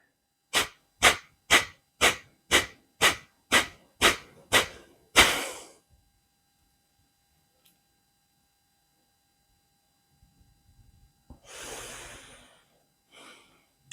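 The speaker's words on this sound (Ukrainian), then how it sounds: "Я показав дуже зменшену версію капалабхаті, щоб ти зрозумів, по закінченню цикла я на видихі затримую дихання" Kapalabhati yoga breathing: about nine sharp, forceful nasal exhalations in a fast steady rhythm, then a long silent breath hold after the exhale, ending with a noisy inhale and soft breathing, close and clear.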